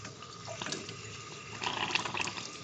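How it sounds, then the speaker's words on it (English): Open test cock on a double check valve backflow assembly gurgling and spitting water, an uneven sputtering flow that surges louder in the second half, close up with no talk. "You may have noticed it gurgled and spit some water out of this particular port."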